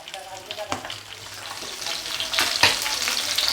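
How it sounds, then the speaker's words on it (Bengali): Pabda fish frying lightly in mustard oil sizzle in a pan, the hiss growing louder over a few seconds and broken by several sharp crackling pops, heard alone. "মাছটা আমি এবার হালকা করে ভেজে নেব।"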